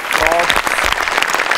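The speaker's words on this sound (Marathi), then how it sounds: "त्यांच्यासाठी एकदा जोरात टाळ्या वाजवा" A studio audience at a Marathi comedy show claps loudly in a dense, continuous burst of applause, with voices mixed in.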